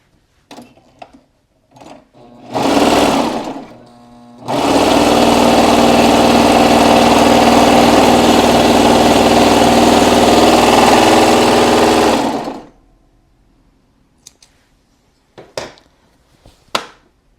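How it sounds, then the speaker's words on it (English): A serger sewing machine stitches knit fabric in one loud, steady, whirring run of about eight seconds, heard close up, after a short burst at the start and with faint handling clicks around it. "See how quick that is on the serger?"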